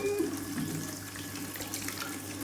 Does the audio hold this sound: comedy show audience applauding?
no